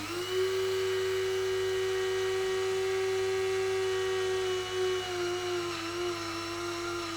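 A small electric kitchen mill grinding sugar into powder runs with a steady, close, high-pitched motor whine that holds level throughout, with a slight wavering near the end.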